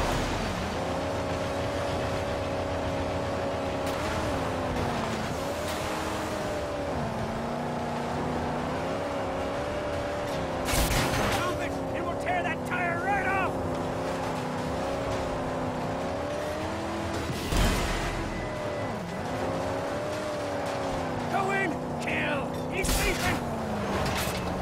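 A battered car drives through the Mad Max video game, its engine droning with steady pitch shifts as it accelerates and eases off, with occasional crashes and impacts, while someone talks over it throughout.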